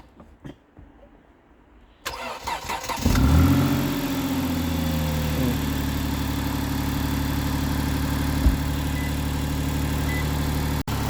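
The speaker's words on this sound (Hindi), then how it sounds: "उसका स्टार्टअप देखें आप कैसा" A used car that had been sitting unused for a long time, jump-started with a booster, cranks after a quiet start and catches with a loud burst, then settles into a steady, even idle that continues to the end.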